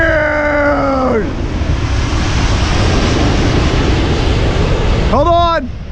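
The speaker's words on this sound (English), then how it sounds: "That's the biggest plane. In the world!" An Airbus A380 airliner passes low overhead above Boston Harbor, a loud, steady roar that swells and fills the clip while excited voices shout over it at the start and end.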